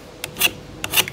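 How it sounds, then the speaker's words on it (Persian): Sandpaper is rubbed by hand over wood while a wooden bench is being built, making two short rasping strokes in a quick pair, close and clear. "دارم سنباده میکشم."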